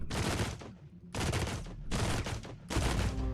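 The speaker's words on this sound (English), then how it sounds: "Chain pistols really putting in the work in here" Chain pistols firing in Caves of Qud, four loud rattling bursts of rapid shots separated by short gaps, each burst dense and close with no talking.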